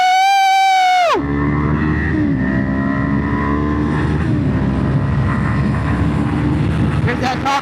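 Kawasaki Ninja 500 motorcycle accelerating hard on a highway, a loud, steady engine roar with a sharp rev drop near the start as it shifts, then sustained high-speed engine and wind noise throughout.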